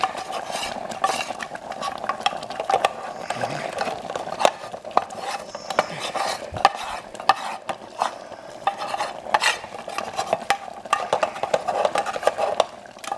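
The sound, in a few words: roux being added and stirred into pickle soup in a canteen cup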